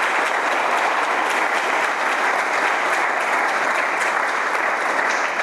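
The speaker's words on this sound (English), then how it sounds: "If we can give a nice round of applause to the Aramark staff for their efforts tonight." Steady, loud applause fills a hall at an athletic hall of fame induction dinner as guests clap for the Aramark catering staff, with dense continuous handclaps and no talking.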